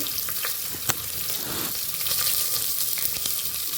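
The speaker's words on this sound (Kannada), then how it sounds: "ಇದೆಲ್ಲ ಕೂಡ ಮೀಡಿಯಮ್ ಫ್ಲೇಮಲ್ಲಿ ಫ್ರೈ ಆಗೋ ಥರ ನಾವು ಇಟ್ಕೋಬೇಕು" Chopped onion and other mushroom bath ingredients frying on a medium flame, a continuous close sizzle with a few sharp spoon clinks and stirring scrapes, no one talking.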